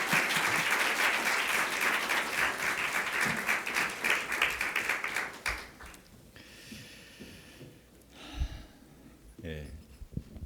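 A church congregation breaks into loud, dense applause welcoming the pastor to the pulpit, sustained for several seconds before fading out as shuffling and a few quieter sounds remain.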